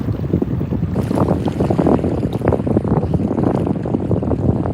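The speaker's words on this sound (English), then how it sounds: "It didn't help, huh? Still windy." Strong wind buffets the microphone in loud, rough gusts, with a low rumble underneath and no talking.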